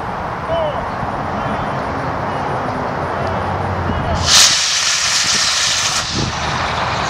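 A model rocket D motor, run at two-thirds power, fires on a small test boat, giving a sudden bright hissing roar that bursts in and lasts about two seconds over steady outdoor background noise, with no one talking.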